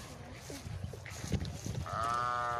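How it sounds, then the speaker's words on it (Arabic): Rahmani ewes at a livestock sale, bleating faintly amid background noise, with one clearer wavering bleat near the end. "12 نعجة رحماني على وسيمي اهم. تشكيلة من غنم الكويسة"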